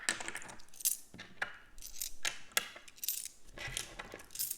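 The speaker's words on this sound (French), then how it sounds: "qu'il y ait une pièce qui m'échappe. Et que ça fasse un peu plus de bruit." A small coin slips from a hand and clatters with several light metallic clinks against a hard surface, faint and close, among soft handling noises of counted euro cash.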